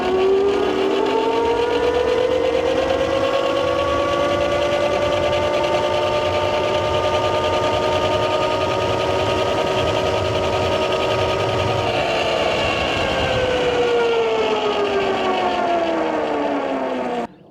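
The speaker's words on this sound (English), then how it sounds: "So this bike ran up the hill at a very impressive 33 miles per hour, GPS verified" MEGAWHEELS D2 electric dirt bike climbing a hill at speed, a loud steady electric motor whine rising and sweeping in pitch for about seventeen seconds with drivetrain hum beneath, no talking.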